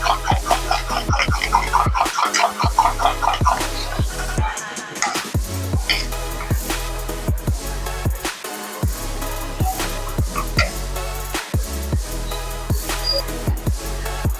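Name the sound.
stirring paneer dish in pan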